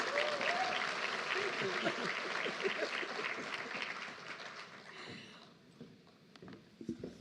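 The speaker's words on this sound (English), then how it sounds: "I'm sure you can give a better big hand of applause." Audience members at a Department of Education plenary session applaud at a formal conference hall. The steady clapping is heard from a distance and fades gradually toward the end.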